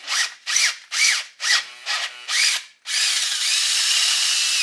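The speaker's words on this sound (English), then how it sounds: "Now that our hole is drilled" A power drill bores out a damaged thread for a HeliCoil repair, whining in about six short close bursts before settling into one sustained, loud run.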